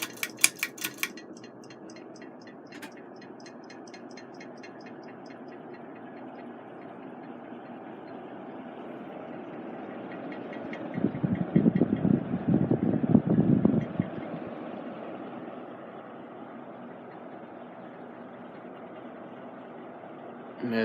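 A 1987 SMC Scandia EG-42 42-inch ceiling fan running on high, a steady whooshing hum with faint rhythmic ticking, a brief louder rattling surge partway through, and no talk.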